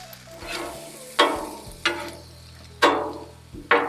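Onions cooking in bacon grease on a griddle, a low steady sizzle punctuated by four sharp spatula scrapes or taps spaced about a second apart, close and clear with no talking.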